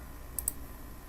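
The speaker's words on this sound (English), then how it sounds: "I'm typing exactly what I have written" Two quick faint clicks of calculator keys being pressed, close and isolated over a quiet background hum.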